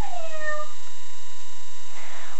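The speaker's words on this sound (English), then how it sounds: "We've got a kitty, and we love her." A pet cat gives a single short meow near and clearly at the very start, followed by quiet, with a faint background hum.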